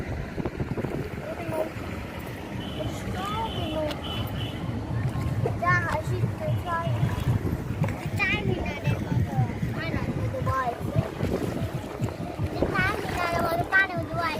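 A boat moves across open water with a steady low rumble and wash, while children and adults chatter and call out nearby throughout.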